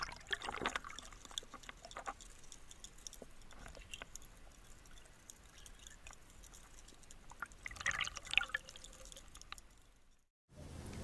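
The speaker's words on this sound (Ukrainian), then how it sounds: "Приманка вийшла шумова, це однозначно додасть покльовок." A homemade 43-gram noisy fishing lure moved through water, giving faint splashing, dripping and trickling sounds with small irregular rattles and clicks, quiet and close.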